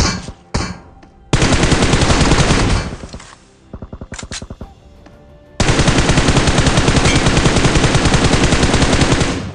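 Automatic weapons fire in the mobile battle royale game BGMI arrives in loud bursts: a few scattered shots, a long sustained burst, a choppy stutter of rounds, then another long unbroken stream close up.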